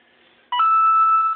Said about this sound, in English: that was just my phone